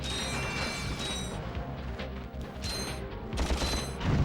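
Bombs explode in the Ratchet and Clank video game, a dense rapid barrage of blasts and crashing bursts with mechanical clatter, loud and continuous with deep booms swelling near the end, no speech.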